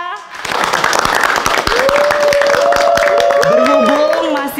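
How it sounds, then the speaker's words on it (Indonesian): A crowd applauds and cheers at a neighborhood nasheed and marawis festival, loud and continuous clapping with scattered sharp claps. Voices call out over it and tonal whoops rise through the second half. "Tepuk tangannya."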